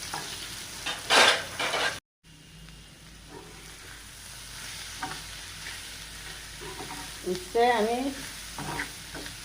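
Chopped onions sizzle steadily in a hot pan while a spoon stirs and scrapes them, with a few brief words spoken over the frying.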